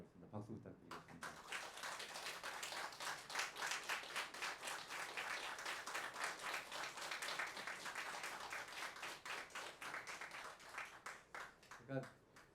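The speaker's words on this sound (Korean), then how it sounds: "박수 부탁드리겠습니다" Steady applause from a concert audience at a Korean traditional music gathering honoring a gayageum master, dense clapping held for about eleven seconds before it thins out, with a few voices mixed in.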